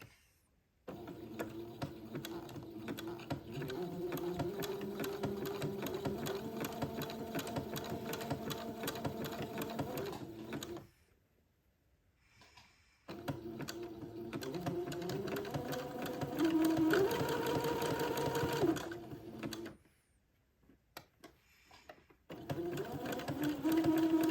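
A sewing machine stitches along the edge of a bonnet piece for a day gown, whirring close in steady bursts that pause briefly twice before running again, with no talking.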